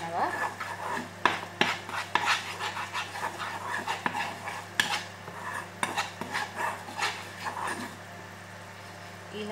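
Chicken soup mixture being stirred in a pot, heard as repeated scraping and clinking strokes in a steady rhythm, close and fairly quiet.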